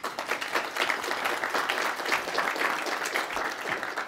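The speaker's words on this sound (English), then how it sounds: "you already got applause" An audience gives steady, dense applause for the Prime Minister of Finland, Juha Sipilä. It is moderately distant and continues evenly throughout with no other sound.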